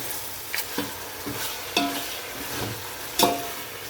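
Chicken pieces frying in a pot for white chicken biryani, with a soft continuous sizzle and several distinct scraping stirs spaced a second or so apart.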